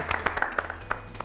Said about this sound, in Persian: تشویقشان بکنین